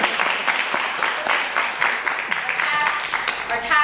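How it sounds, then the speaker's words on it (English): Theater audience clapping at an original stage play, a sustained round of applause close by, with a voice speaking over it toward the end. "You should totally clap for yourselves."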